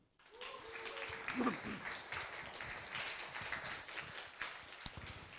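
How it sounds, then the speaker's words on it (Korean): A seated audience claps at a Korean political talk, the crowd applause rising into a thick patter of many hands and holding steadily, with a brief voice near the start. "여러분 인간 문재인에게 박수 한번"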